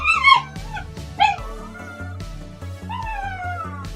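Bagel, a pet dog, gives several high yelping barks and whining whimpers close by, spread across a few seconds over a steady low background hum.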